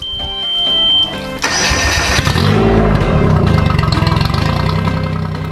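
A Tohatsu MFS 40/50/60 outboard motor is started while still sitting in its shipping box: a whirring crank and tonal whine, then the engine catches into a loud, steady, pulsing idle that runs to the end.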